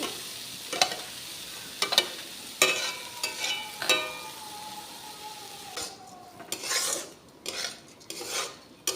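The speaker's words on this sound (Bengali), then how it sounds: "এবার লবণ আর হলুদ দিয়ে একটু নেড়ে চেড়ে নিলাম বেশি কড়া করে ভাজবো না" Moong and masoor dal lightly frying with salt and turmeric, a steady close sizzle broken by repeated scraping stirs of a spoon against the pan, with no talk.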